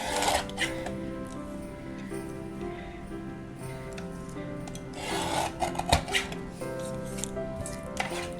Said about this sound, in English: So now I can go back and trim this side down to 4 inches.